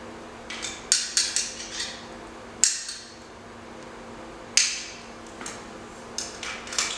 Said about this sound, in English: we need to tighten the pinch bolts